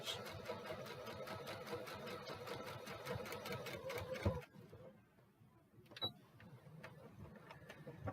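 A pedal-driven sewing machine stitches a denim jean bag in a fast, even mechanical rattle, stopping abruptly partway through, followed by quiet handling noises and a sharp click.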